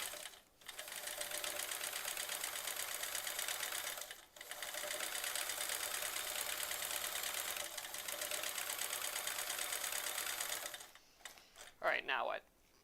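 A sewing machine doing free motion quilting runs in long, steady stitching bursts with brief pauses, a fast even mechanical whir close by, and a short voice near the end.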